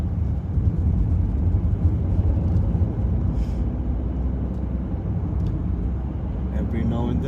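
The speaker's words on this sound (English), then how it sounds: "I'll slowly start moving the car forward" A learner's car pulls away slowly and drives on along a suburban road near Newton Longville, Milton Keynes, its steady low engine and road rumble continuous throughout, with a voice talking over it.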